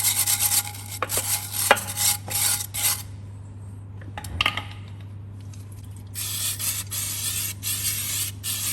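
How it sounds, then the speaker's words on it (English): A wire brush scrubs the wet brake hub surface of a Ford Ranger in close, rasping strokes that come in uneven bursts with short pauses, over a steady low electrical hum. "just a quick wire brush on this will just remove anything that's loose"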